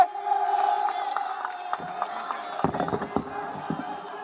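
A large crowd at a public event cheers and claps to welcome Yogi Adityanath, a loud, sustained roar with sharp bursts of clapping and shouts toward the end.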